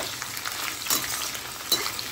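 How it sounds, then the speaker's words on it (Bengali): Beans and mixed vegetables stir-fried in a pan for a navaratna korma, a continuous close sizzle broken by a few scraping stirs, no voices. "আর বিনসটা দিয়ে ভালোভাবে নাড়িয়ে নেব।"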